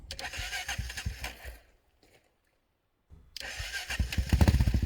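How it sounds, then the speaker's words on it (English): A 20-year-old dual sport dirt bike engine sputters and runs, cuts out into near silence, then cranks back to life and revs up with loud, close, rising throbs. "get my bike started again here"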